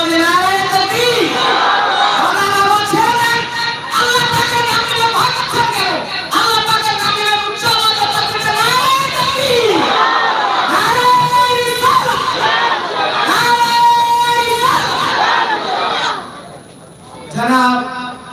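A large religious gathering loudly chanting Nara-e-Takbir, voices rising in repeated powerful call-and-response shouts, dense and echoing, with a brief lull before a final surge.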